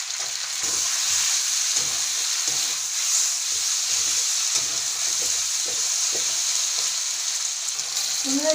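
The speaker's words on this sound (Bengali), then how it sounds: "দেখেন এটা কষে নিচ্ছি, চিংড়ি মাছটা দিয়ে ভালো করে কষে দিবে" Prawns sautéing in a pan with peas for a village-style Bengali dish, a steady close sizzle and frying hiss running the whole time, with occasional soft spatula scrapes underneath.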